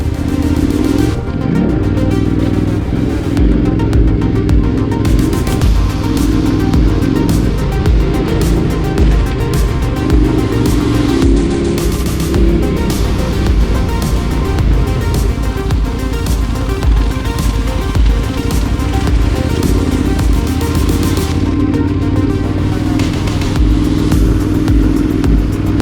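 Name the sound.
KTM 990 Adventure motorcycles riding uphill on a trail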